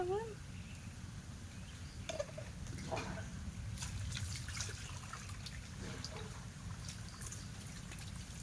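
Running water from rinsing off a homemade coffee and honey body scrub, a steady, soft trickle and splash continuing throughout, with faint occasional drips and knocks over a low background hum.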